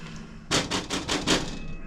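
A pot of Spanish rice with chorizo bubbles hard, giving five or so heavy, rhythmic plops in quick succession, close and fairly loud.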